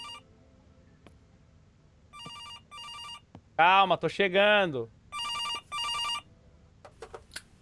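Old telephone ringing in the horror video game September 7th, several loud electronic ring bursts in a repeating pattern, with someone speaking briefly in between.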